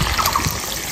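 Water trickles and splashes briefly into a pot of mutton curry with fried potato pieces, a soft close-up pour lasting about a second with no talk.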